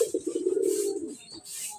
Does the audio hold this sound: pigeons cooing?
yes